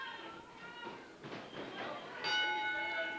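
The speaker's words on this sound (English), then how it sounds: "Referee Dash Riprock calling for the bells" A ring bell clangs several times at a pro wrestling match in a South Carolina venue to start the title bout, with a commentator talking over the ringing.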